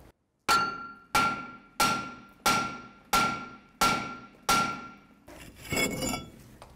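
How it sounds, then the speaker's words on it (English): Seven sharp, evenly spaced hammer blows ring out against a frozen brake rotor on a 1984-2001 Jeep Cherokee front hub, each strike a bright metallic clang that decays quickly, followed by a rougher, scraping clatter. "It's kind of frozen on there before I hit it with a hammer."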